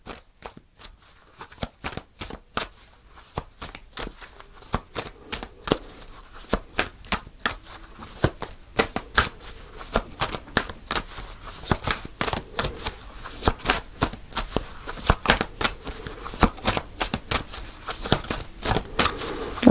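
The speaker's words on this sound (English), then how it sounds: "Okay, I'll shuffle a couple more times." Tarot cards are shuffled by hand in repeated bursts of crisp riffling snaps and soft slides, close and clear, growing busier and louder toward the end, with no voices.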